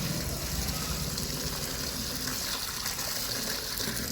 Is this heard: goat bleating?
no